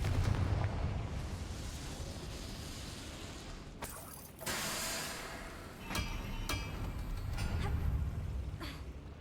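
A Confringo blasting spell detonates in a Harry Potter video game, a heavy, booming blast with a rumbling roar followed by sharp cracks and crackling debris, loud and close throughout.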